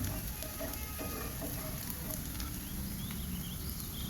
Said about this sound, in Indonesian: Kemudian kita masukkan bawang bombay cincang. Ini akan kita tumis hingga harum dan cukup matang.